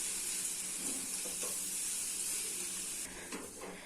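Raw banana pieces sautéing in a pan with salt and asafoetida, giving off a steady, close sizzling hiss that runs unbroken, with a couple of faint stirring scrapes near the end.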